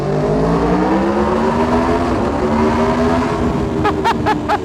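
A motorcycle with an exhaust flap revs loud and close, its exhaust note rising steadily, with a few sharp pops crackling out near the end.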